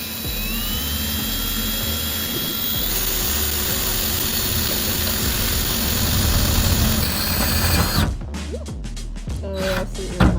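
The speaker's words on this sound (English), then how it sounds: "Let's see if the jigsaw would be a little bit easier." A jigsaw cuts into a van during an air conditioner installation, a loud steady buzzing whine that runs continuously for about eight seconds, then stops, leaving softer clatter and handling noise.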